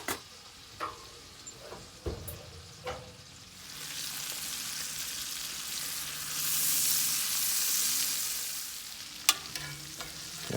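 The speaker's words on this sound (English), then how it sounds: "take this meat and we're just going to lay it in on this butter." Deer backstrap meat laid into melted butter in a pan, a few sharp clicks of utensils first, then a steady close sizzle rising and swelling, ending with more utensil taps.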